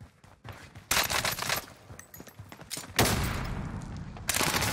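Gunfire during a Call of Duty match on Rebirth Island, loud bursts of automatic fire in several sharp volleys broken by short quieter gaps, some shots close and others more distant.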